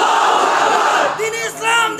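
A crowd roars the chant Allahu Akbar in answer to a takbir call at a religious gathering about the Muslims of Arakan, a loud massed shout that swells and fades in waves.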